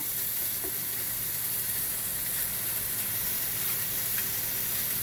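Sausages caramelizing in a hot pan, a constant broad sizzle and hiss of frying fat with faint crackles, close and steady throughout with no talking.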